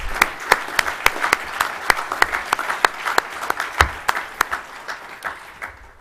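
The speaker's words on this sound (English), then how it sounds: "applause for our keynote speaker." A conference audience applauds a keynote speaker on Moon and asteroid exploration, a full crowd clapping steadily with some distinct nearby hand claps standing out, then gradually thinning near the end.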